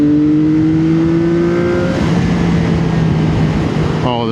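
A CFMOTO 675SS motorcycle accelerates hard, its engine note rising steadily and loud through the gears as the bike pulls away, with a brief whine near the end.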